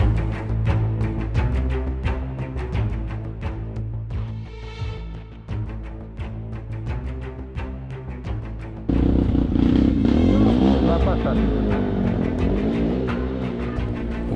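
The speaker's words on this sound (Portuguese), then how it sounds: "O camarada nessa moto de trilha atravessou bem rápido." A dirt bike crosses the Quilombo river in Serra da Canastra, Minas Gerais, Brazil, its engine buzzing and revving steadily, growing louder and rougher with churning water toward the end.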